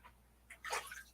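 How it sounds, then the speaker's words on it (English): Water spilling and splashing during a live gold-panning session, a short burst of wet splashing that rises suddenly near the end and stays fairly close. "I spilled the water."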